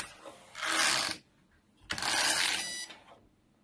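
Knitting machine carriage driven by a crank, two loud whirring mechanical passes with a clattering rattle, each about a second long, separated by a short quiet gap, close with no talk.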